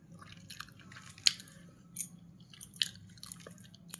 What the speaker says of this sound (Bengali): আমি খেতে শুরু করছি। প্রথমে কী দিয়ে খাবো? মূলোর শাকটা দিয়ে খাই।